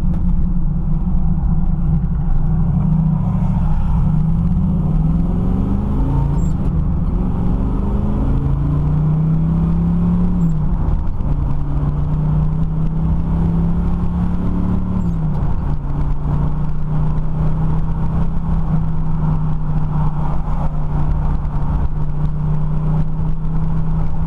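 A 1968 Chevrolet Camaro SS 396 being driven, its big V8 giving a loud, steady low rumble from inside the car with engine pitch rising and settling as it cruises, no talking.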